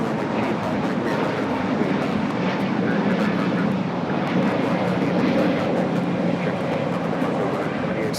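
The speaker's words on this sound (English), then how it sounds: "This is Volaris 7855 taking off to Aguascalientes on the A320neo" Volaris Airbus A320neo jet taking off at LAX, a loud, steady roaring engine blast that fills the whole stretch without letting up.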